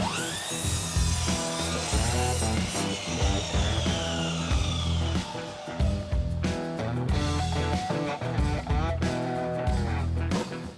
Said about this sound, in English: I'm just going to cut a bottom piece from the same